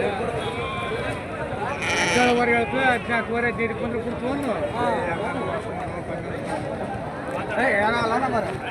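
Several sheep bleat repeatedly at a sheep and goat market, wavering calls overlapping close by, with people talking amid the flock.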